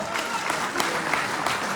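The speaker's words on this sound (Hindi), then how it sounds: "ताली बजाइए जोरदार।" An audience claps steadily, a dense wash of applause throughout with no pauses.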